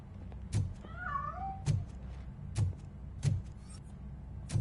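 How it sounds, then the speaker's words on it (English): A cat meows in the game RoboCop: Rogue City, one rising-falling cry standing out faintly over a steady low hum, with several soft thuds spaced through the scene. "That cat must be hiding inside."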